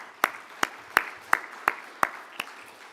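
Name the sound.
applause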